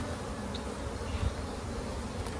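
Honeybees drone steadily inside an open, well-stocked hive, a dense continuous hum that stays close and even throughout, with no voices.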